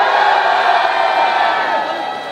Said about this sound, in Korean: 다 같이 큰 박수와 함성!